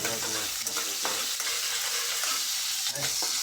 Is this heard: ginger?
yes